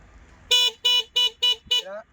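A vehicle horn honks five times in quick, evenly spaced bursts, loud and close, with a short voice at the end.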